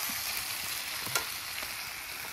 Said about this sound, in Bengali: এখন মাংসটা কষানো চলছে